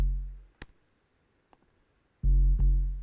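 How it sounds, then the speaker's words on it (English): A chopped, distorted bass sample, the lower of two filtered and EQ'd tracks, enters loud and sustained with heavy low-end weight after a couple of faint clicks and near silence. "So the bass is actually just I think a sample that I've chopped up"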